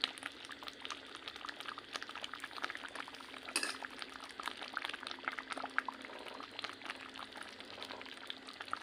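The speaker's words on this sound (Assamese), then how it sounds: "এতিয়া অলপ সময় উতল আহিব দিম।" Khichdi with potatoes, sweet potato and a spoonful of ghee bubbling in a pot, a steady soft simmering hiss with small popping and occasional faint clinks, no talking.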